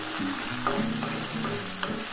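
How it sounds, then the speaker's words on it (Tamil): Chopped tomatoes sautéing in a pan for chutney give a steady close sizzle, with soft scraping from stirring running throughout. "தக்காளியை நல்லா குழையிற அளவுக்கு வதக்கிக்கோங்க."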